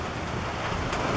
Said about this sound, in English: It looks like the wind, that big blow has come through